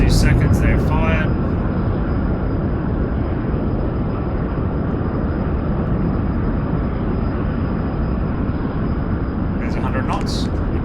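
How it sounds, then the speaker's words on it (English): A jet's engines roar with afterburners lit for takeoff, a dense, steady broadband rumble that stays loud and continuous throughout, with faint speech near the start and end. "Keep the burners in, less than 2 seconds they're fired"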